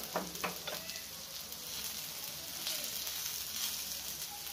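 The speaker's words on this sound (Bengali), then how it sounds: "বড়াটা তো এমনি বসিয়ে ভাজতে হবে, একটু তেলটা আমি দিলাম।" Prawn head fritters made with gram flour frying in a modest amount of oil: a soft, even sizzle with a few early pops and light stirring, quiet and continuous.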